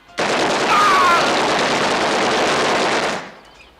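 Film gunfire after a shouted order: a dense, loud burst of rapid shots and crackling blasts fills about three seconds before cutting off abruptly.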